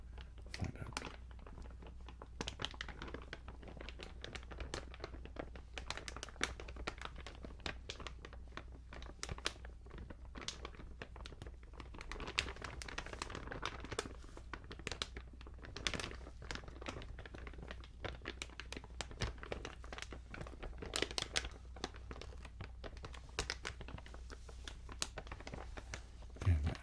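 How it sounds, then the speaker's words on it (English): Soft crinkling and crackling of material runs steadily and faintly for the whole stretch, close and continuous, with scattered small rustles and no clear speech. "a lot of crinkling down there"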